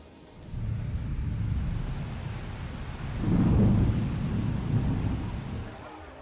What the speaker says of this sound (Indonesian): Ketika hujan deras datang,